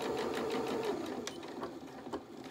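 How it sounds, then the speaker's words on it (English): A sewing machine stitches fabric while sewing French knickers, a fast even whirring of the needle running close and steady, slowing slightly toward the end with a couple of small clicks. "I'm just going to sew down to this first pin first."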